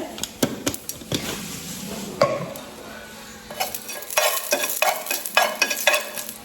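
Cumin seeds toast in a pan while a spoon scrapes and clinks against the metal, with a light sizzle and irregular sharp taps close by and no talk.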